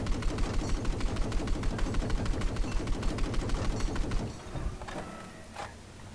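Rapid, evenly spaced bursts of a boat-mounted cannon in Battlefield 4 pound loudly for about four seconds, then stop, leaving quieter rumbling and scattered distant impacts.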